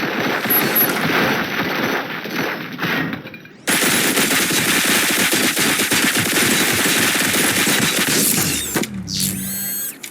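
Sustained automatic machine gun fire in the RoboCop: Rogue City video game, loud and continuous with rapid rattling bursts, a brief dip, then resuming with mechanical clatter near the end.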